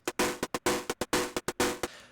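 A synthesized TR-606-style hi-hat sequence built in Phase Plant ticks out bright noisy hits in a repeating pattern of two quieter notes and one louder accent, crisp and close, ending in a short decay.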